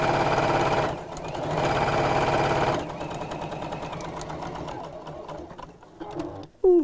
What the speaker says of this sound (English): I'm going to carry on and just sew all the way around